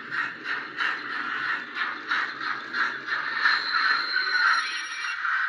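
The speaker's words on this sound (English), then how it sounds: "Automatic brake squeal, which is cool." A model train's built-in sound system plays an automatic brake squeal, a shrill tone that pulses in quick rhythmic bursts and then holds, heard close with no talk over it.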